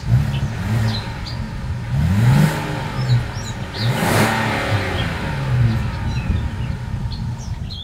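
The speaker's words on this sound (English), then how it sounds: "As always, here is that exhaust clip." A 2022 Kia Carnival minivan's engine revs through a single exhaust, with several rising and falling throttle blips over a steady idle, close and loud.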